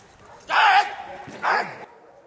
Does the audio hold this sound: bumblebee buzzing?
no